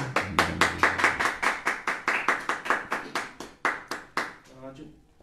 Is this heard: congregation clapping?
yes